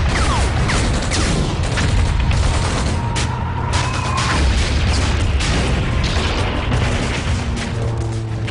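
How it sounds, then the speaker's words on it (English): Dense WWII battle soundscape from the Omaha Beach landing, with rocket launchers, mortars and machine-gun nests firing at once: a loud, continuous roar of gunfire and explosions, layered booms and rattling bursts filling the whole stretch without pause. "Rocket launchers, mortars, and 85 machine gun nests tear into the Americans."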